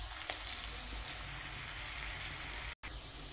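Chopped onions fry in a pan for a homestyle potato and liver dish, giving a steady, close sizzle with faint stirring scrapes throughout and a brief dropout near the end.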